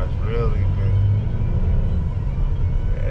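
Corvette Grand Sport car driving at a dealer-only auction, its engine giving a steady close low rumble throughout, with people talking over it.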